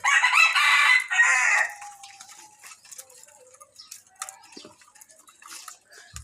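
A bantam rooster crows loudly and close by for about two seconds, then fainter clucks and scattered bird calls carry on over quiet morning ambience.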